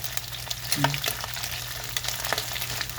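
Chicken skin frying in hot oil, a steady close sizzle with scattered crackles and small pops throughout, with no talking.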